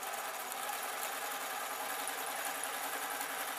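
Sewing machine stitching fabric for a homemade foot support, a steady, even mechanical whir running continuously throughout, fairly close with no pauses and no voices.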